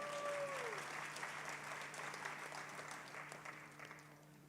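A theatre audience at Ebertfest applauds the film El Norte, a dense, steady wash of many hands clapping that slowly fades toward the end.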